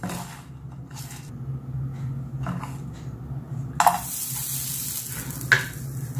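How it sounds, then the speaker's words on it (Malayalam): Spices with coconut and cashew nuts roast in a pan for Chettinad chicken curry, giving a soft steady sizzle with occasional scraping stir strokes and a couple of sharper clinks, no voices. "ഇതൊന്ന് നന്നായിട്ട് റോസ്റ്റ് ചെയ്തെടുക്കാം."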